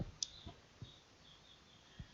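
A computer mouse gives a few sharp, quiet clicks spaced irregularly against a faint room hum, with no talking.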